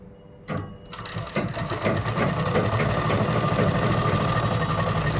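Sewing machine running a half-inch seam on a kurta, starting after a brief pause and then whirring steadily and loudly at close range with rapid needle clatter.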